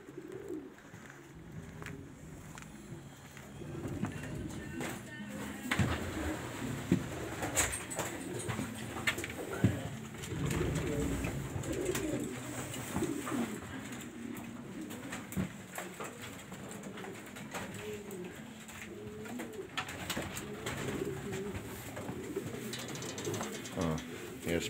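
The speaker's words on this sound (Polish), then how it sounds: "Tutaj sobie gruchają" Racing pigeons perched on a board coo softly in a loft, with overlapping murmuring calls and scattered faint rustles and clicks throughout.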